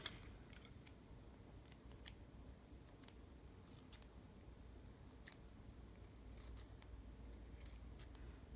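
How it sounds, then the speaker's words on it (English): Scissors snipping through fuzzy sherpa fabric while trimming a head wrap, a series of crisp, close cuts at an uneven pace over quiet background, with occasional sharper louder snips. "What I do is I take my scissors,"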